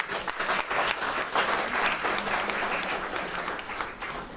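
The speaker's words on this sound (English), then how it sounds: "So let's welcome him with big round of applause." Steady, dense applause from a large audience welcoming the Governor of West Bengal at a live public event, many hands clapping evenly at close range for the full stretch without letting up.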